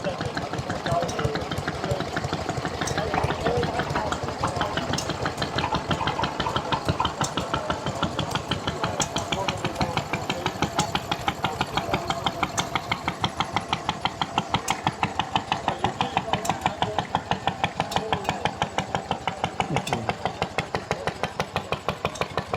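Vintage tractor engines idle steadily at an outdoor show, a loud continuous low rumble with rapid regular firing pulses throughout, no talk over it.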